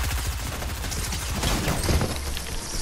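Rapid gunfire in Fortnite, bursts of fast repeated shots rattling steadily and loudly from start to finish.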